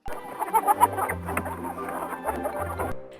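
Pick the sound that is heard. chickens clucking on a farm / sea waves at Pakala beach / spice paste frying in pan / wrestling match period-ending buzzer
chickens clucking on a farm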